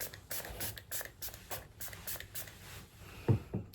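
Makeup setting spray released as a fine mist in a run of quick, soft spritzes at a regular pace, close and fairly quiet, with no talking.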